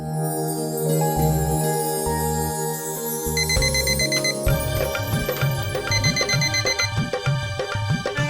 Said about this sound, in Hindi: इस वक्त अलार्म की आवाज कहाँ से आ रही है?